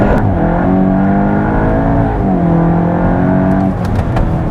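A car on all-season tyres accelerates hard from a standstill with electronic stability control in sport mode, the engine roaring loud and close as it climbs through the revs, dipping once at a gear change before rising again.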